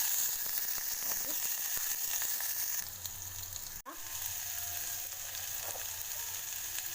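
Onion, green chili, coriander leaves and curry leaves sizzle in hot oil with a steady crackling hiss, briefly interrupted by a sharp knock, then settling back into constant frying.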